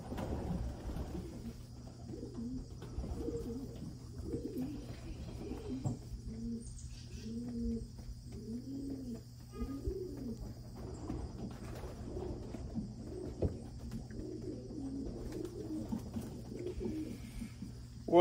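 Racing pigeons coo steadily in a loft, a repeated soft throaty rhythm of overlapping birds close by over a constant background hum.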